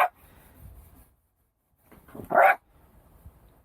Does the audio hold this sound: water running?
no